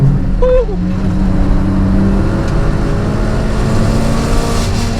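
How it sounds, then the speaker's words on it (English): A turbocharged Mazda MX-5 engine revs high and holds a steady, loud drone on the Nürburgring, with road rumble underneath throughout. "So we're gonna let it in high revs here."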